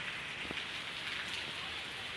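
Rain pours down, with water falling from a roof in a constant, dense patter and hiss that holds steady and fairly soft throughout, without speech.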